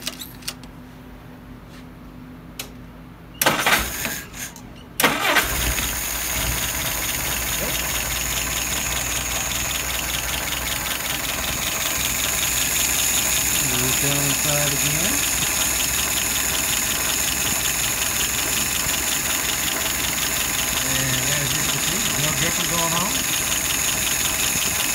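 A WO 596S engine is cranked into life after a few brief bursts of starting, then settles into a loud, steady idle that runs on, with a rhythmic knock beneath it.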